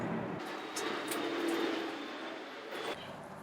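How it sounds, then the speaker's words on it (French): An airplane passes overhead as a faint, distant, steady engine drone that swells slightly and then eases, heard alone without talk. "Je laisse passer l'avion."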